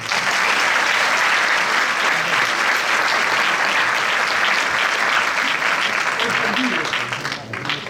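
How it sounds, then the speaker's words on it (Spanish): Sustained, dense applause from an audience at a school graduation ceremony, steady and loud for several seconds before tapering off slightly at the end. "Un aplauso."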